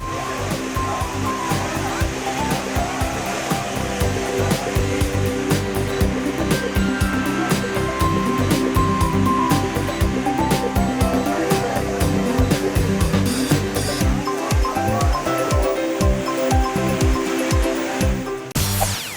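Water rushes through the previously dry Vaigai River in a loud, continuous roar with churning surges, and deeper rumbling bursts come near the end.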